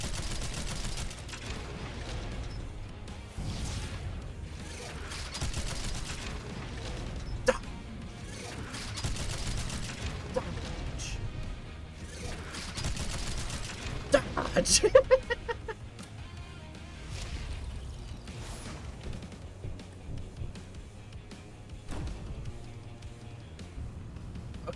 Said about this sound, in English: I think I've just shot missiles at myself.